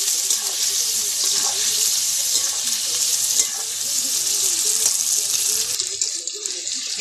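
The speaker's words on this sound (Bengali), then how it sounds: "দিয়ে দেবো একটু সামান্য লবণ, আর দিয়ে দেবো আমি সামান্য হলুদ, দিয়ে আমি সামান্য ভেজে নেব।" Pieces of young jackfruit fry in hot oil with salt and turmeric, a loud, steady sizzle and crackle running throughout with occasional stirring.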